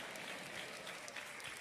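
A church congregation applauds in a steady wash of clapping, dense and even over a short stretch, fairly distant and moderately quiet.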